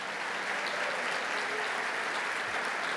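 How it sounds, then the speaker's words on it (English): Audience applause at an award event, steady even clapping from a sizable crowd, moderately distant and sustained throughout. "Let's give them a round of applause."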